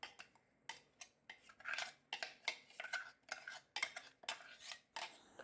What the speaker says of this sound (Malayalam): ഇനി അരിപ്പൊടിക്ക് നമുക്ക് ഉപ്പും കുറച്ച് നെയ്യൊക്കെ നമുക്ക് മിക്സ് ചെയ്ത് കൊടുക്കാം.